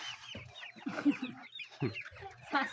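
Broiler chicks about 45 days old in a crowded hut, clucking and peeping in overlapping bursts, moderately close but soft.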